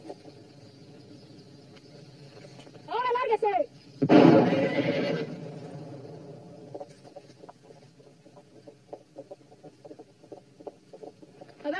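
A horse whinnies in a short rising-and-falling call, followed by a loud burst of commotion, then quieter clip-clop-like knocks and rustling, set in a 1991 Latin American Spanish bandit film scene.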